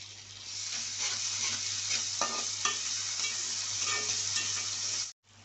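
Ingredients frying with ginger garlic paste for gongura chicken, a close, even sizzle with light stirring scrapes running steadily before cutting off abruptly at the end.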